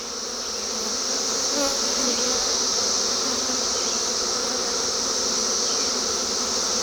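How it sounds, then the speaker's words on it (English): Continuous loud drone of many honeybees swarming close by at a hive, a thick unbroken buzz with no voices. "you can see the bees there. Check it out. They're doing their job."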